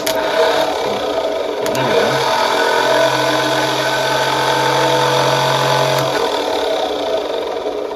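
Starter generator on a Bolens Ride-a-matic garden tractor, powered through jump cables: a loud, steady motor hum with a sustained low drone that holds for several seconds, a few clicks near the start and a sharp tick near the end.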